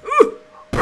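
A short game dog bark from a pug in Turbo Pug, one loud close yelp that drops in pitch, followed by a brief burst of noisy sound.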